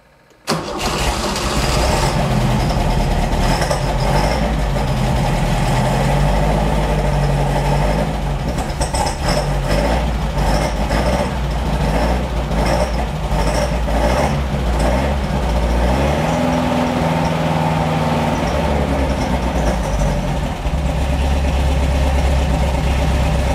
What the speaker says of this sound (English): let's get the car back down and try to start it and see what happens